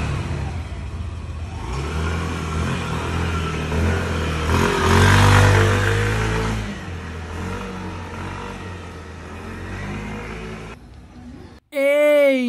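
A rebuilt Yamaha Aerox V2 scooter engine runs and is revved, swelling to a louder peak midway and then dropping back. A short musical tone sounds at the very end.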